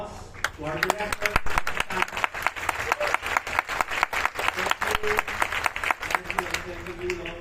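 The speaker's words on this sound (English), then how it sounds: "A round of applause to our director." Applause breaks out for the director at the curtain call of a Filipino stage musical, a dense crowd clapping steadily with sharp individual claps on top, heard alongside a voice speaking throughout.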